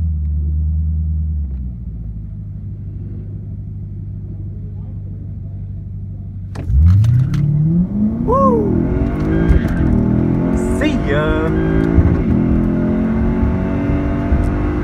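A Lexus IS F with a naturally aspirated V8 launches in a drag race against a supercharged V8 Cadillac CTS-V after a low idle rumble, the engine rising in pitch through several loud revving gear pulls up close, with a brief voice in the background.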